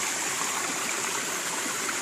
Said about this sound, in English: Some nice overgrown little waterfalls.